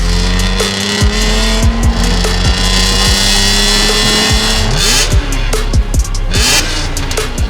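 A BMW E46 M3 engine with six-speed manual gearbox revs hard through repeated upshifts, loud and close, its rising pitch sweeping up and dropping at each gear change.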